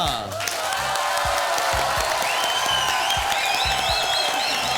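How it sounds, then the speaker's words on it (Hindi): Studio audience applause on the TV game show Dus Ka Dum, a steady crowd clapping with some cheering over rhythmic show music with a thumping beat, continuous throughout. "तालियां।"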